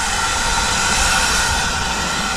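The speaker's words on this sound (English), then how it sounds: "and there's a steam train" A steam train at a heritage railway station in Devon gives off a steady, loud hiss and rumble that fills the whole stretch without a break.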